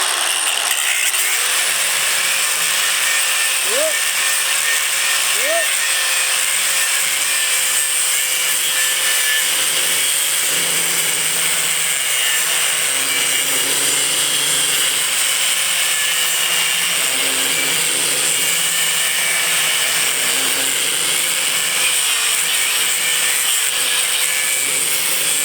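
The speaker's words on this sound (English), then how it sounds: "every time I torqued that grinder over, you felt that before where the grinder catches and pulls forward" An angle grinder running without its guard gives a loud, continuous grinding whine throughout, with a couple of brief pitch dips as it is torqued over and catches.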